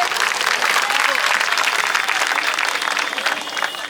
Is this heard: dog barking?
no